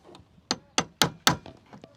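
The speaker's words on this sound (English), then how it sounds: "So either use the puller or you can try it with a hammer." Four sharp metallic hammer strikes ring out in a quick, even rhythm, knocking a wiper arm loose on a Jeep Wrangler JL, followed by a few lighter taps, close to the listener.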